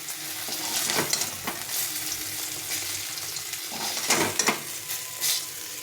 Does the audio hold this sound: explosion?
no